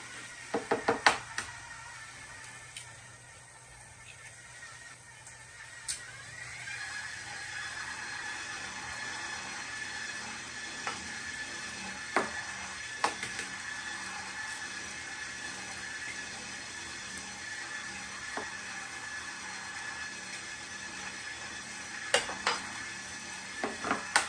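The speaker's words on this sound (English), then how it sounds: "I'm going to crack them in the bowl because I don't want any shells in my cake" Eggs cracked into a mixing bowl and stirred for an old-fashioned cream cheese pound cake: faint scattered taps and clinks of utensil against bowl over a steady low background hiss, with no talking.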